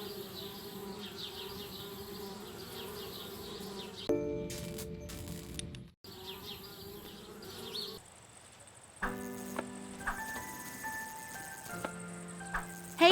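Bees buzz in the adventure game Anna's Quest, a steady insect drone broken up by abrupt cuts into game sound effects and tones, fairly quiet with no talking.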